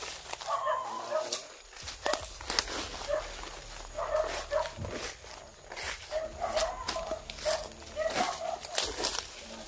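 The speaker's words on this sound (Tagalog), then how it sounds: "Karaming aso dyan man daw." Several dogs bark repeatedly at a distance, their overlapping yaps and woofs coming in irregular clusters, faint and outdoors, with some quiet talk and footsteps mixed in.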